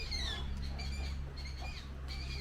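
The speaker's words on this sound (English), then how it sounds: "there's all these birds in a tree and they're just making some really crazy noise" A flock of birds in a tree in Fuerteventura, giving loud, varied, chattering calls and squawks that repeat throughout, over a steady low background rumble, with no talking.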